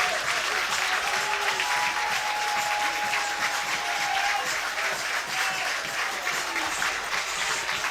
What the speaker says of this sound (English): boy, does he get a good hand from this crowd